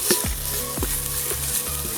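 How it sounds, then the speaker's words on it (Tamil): Ginger garlic paste sizzles loudly in hot ghee during outdoor biryani cooking in Sri Lanka, with repeated stirring scrapes every half second or so over the constant frying hiss. "இப்போ வந்து நம்ம இஞ்சி பூண்டு பேஸ்ட்டு வந்து அப்படியே வந்து சேர்த்துக்கலாம்"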